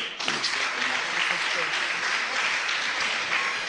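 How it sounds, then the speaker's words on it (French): An audience at a school quiz competition claps and cheers loudly and continuously, with dense applause filling the whole stretch. "On les applaudit."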